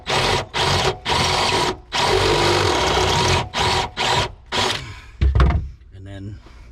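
A power drill widening a hole during a motorcycle controller and circuit breaker install, loud close whirring bursts that start and stop several times, followed by a clunk and clatter.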